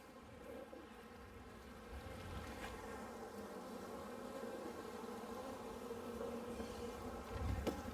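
A honeybee colony hums steadily throughout during a spring hive inspection, the insects growing agitated and defensive; the dense buzzing stays close and fairly loud, swelling slightly near the end.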